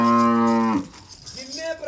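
A Cholistani Friesian cross cow gives one loud, close, drawn-out moo that cuts off sharply, followed by quieter farmyard background noise.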